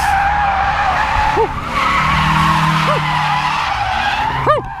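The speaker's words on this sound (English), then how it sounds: "if you guys want to see more drifting footage" A Nissan S15 drifts with its engine droning loudly as the tyres squeal in several short bursts, one near the start, one mid-way and a sharp pair at the end.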